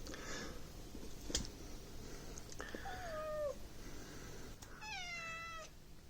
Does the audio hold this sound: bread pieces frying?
no